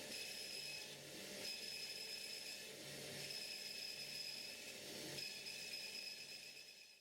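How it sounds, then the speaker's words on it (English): A bandsaw with a 6mm 8 TPI blade cuts aluminium plate with a steady, faint whine and rasping hum that pulses gently several times, holding a thin high ringing tone throughout with no talk. "A 6mm 8 TPI blade in the bandsaw makes for easy work on the alley plate."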